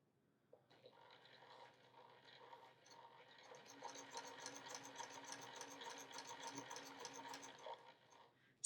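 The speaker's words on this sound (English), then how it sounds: "So I'm going to stitch right along the edge of the fabric here." Sewing machine stitching fabric along a zipper edge, a quiet whirring rattle of rapid needle strokes that starts after a moment of silence and runs steadily, growing slightly louder, in a calm room.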